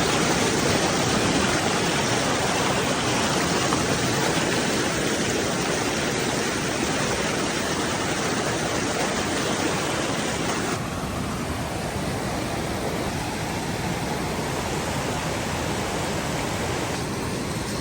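Steady, loud rushing of a river flowing nearby on the Pacific Crest Trail, a continuous broadband roar with no talking over it.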